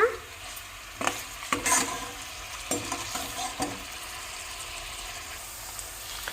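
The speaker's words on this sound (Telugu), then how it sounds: "ఈ ముక్కలు మొత్తం బ్రెడ్ ముక్కల్లాగా, చాయ్ బిస్కెట్ లాగా అయ్యేంత వరకు మంచిగా వేయించుకోవాలన్నమాట" Paneer pieces frying in a pan until crisp like bread or tea biscuits, a soft continuous sizzle broken by several scraping stirs of a spatula, close and fairly quiet with no talking.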